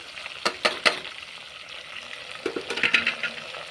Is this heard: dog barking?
no